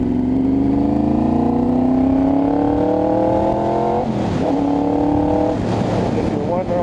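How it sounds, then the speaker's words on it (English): A close, raw Honda VFR750 motorcycle engine with no exhaust fitted gives an open, unmuffled bark as it revs up steadily, then drops and blips twice more. "If you're wondering why this thing sounds like a Harley, it's because I don't have an exhaust."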